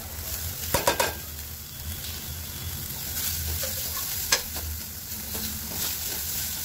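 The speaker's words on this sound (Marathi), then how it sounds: "ह्याला पण एकच मिनटामध्ये मी फ्राय करणार आहे आणि लगेच पनीर घालणार." Paneer frying in a pan gives a continuous close sizzle, with a few sharp spatula-on-pan clatters early on and a single knock midway, no voices.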